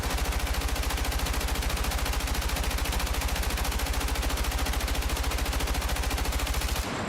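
Battlefield 6 gunfire with recoil: a loud, sustained automatic burst of rapid, evenly spaced shots running nearly seven seconds before cutting off abruptly.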